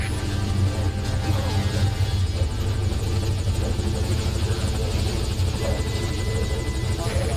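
A helicopter in Metal Gear Solid V Ground Zeroes idles at a landing zone, its rotors producing a heavy continuous whir and low buzz, near and loud without pause.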